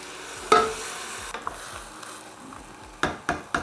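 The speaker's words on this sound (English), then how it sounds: "I'm just gonna saute these for a couple minutes, not long." Carrots and beans sautéing in a pan, with scraping stir strokes and light clinks of a utensil against the pan at intervals over a soft background sizzle.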